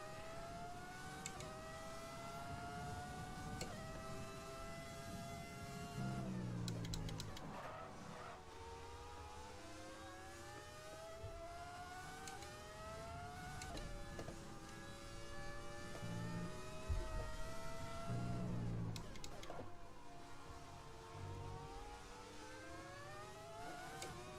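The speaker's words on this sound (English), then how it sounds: "when you have a Cosworth engine in the back of your car" A Cosworth-engined Formula 1 car from the 1998 season races at Bahrain in the F1 2020 video game. The engine whines as it climbs repeatedly through the gears, with sharp downshifts and braking between the faint, continuous high-pitched revving runs.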